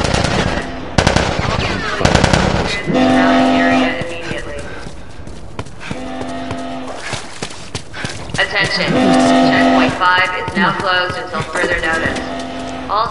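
Gunfire in The Last of Us during a tense combat scene, with bursts of shots mixed among loud game music, shouting voices and other effects throughout.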